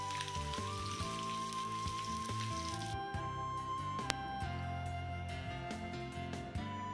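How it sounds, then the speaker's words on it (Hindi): Onions dropped onto a hot tawa with okra, coriander and chillies, crackling and sizzling continuously with a busy, close frying hiss and a brief sharp tap partway through. "अब डाल देते हैं प्याज।"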